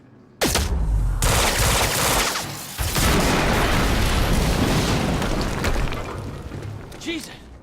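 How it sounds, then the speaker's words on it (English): A large explosion in the video game Quantum Break, a sudden loud blast followed by a long rumbling roar and debris noise, then fading, with characters speaking briefly around it. "we just heard an explosion near the harvesting perimeter"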